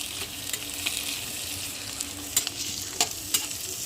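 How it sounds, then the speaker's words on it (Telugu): Instant noodles and grated carrot are stirred in a hot pan, a steady soft sizzle broken by a few sharp scrapes and taps of the utensil against the pan. "మొత్తం వేసుకొని ఒకసారి కలిపుకున్నాం వీటిని"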